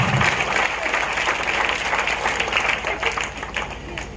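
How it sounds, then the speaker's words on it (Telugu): Congregation applauding together in a church during an evangelist's sermon, a dense, sustained burst of many hands clapping at close range that eases slightly toward the end. "నీ కూతురు కోసం చప్పట్లు కొట్టాలి ప్రతి ఒక్కరు కూడా"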